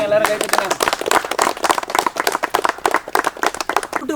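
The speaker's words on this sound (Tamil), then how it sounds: "கைத்தட்டுங்க, எல்லாரும் கைத்தட்டுங்க." A group of villagers claps their hands in a quick, uneven, close patter outdoors beside a large pot of mutton leg gravy, with voices speaking over the clapping.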